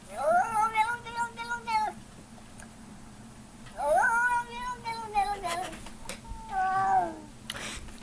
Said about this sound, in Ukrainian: Цей котик ніби каже, оу, ноу, ноу, ноу, ноу, ноу, ноу, ноу.